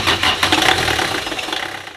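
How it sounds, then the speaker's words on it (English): A Universal M-30 marine diesel engine on a boat runs at idle just after starting, a steady, fairly loud mid-pitched chugging that holds throughout with no talking. "So the next step is to try and start the engine."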